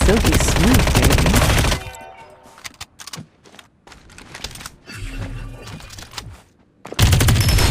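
Loud bursts of rapid gunfire from a Farlight 84 battle royale match, with dense automatic shots at the start and end and quieter sporadic shots and game effects in between.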